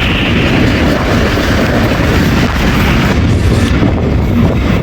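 The Tezgam 8 Down express, a Rawalpindi to Karachi train with a new locomotive, roars past at close range, a loud, steady, dense rumble with no pause across the whole stretch.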